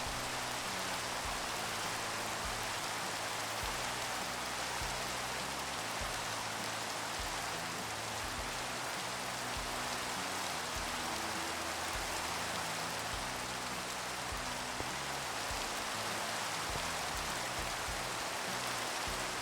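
Steady, dense rain pours down in a Minecraft thunderstorm over a sky island, a continuous hiss with no thunder cracks standing out, running alone at an even level.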